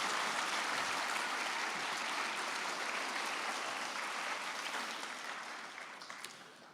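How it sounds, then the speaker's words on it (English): Sustained audience applause fills a high school Veterans Day assembly, a dense steady wash of clapping that holds strong for several seconds, then gradually fades toward the end. "If we could please give her a big round of applause."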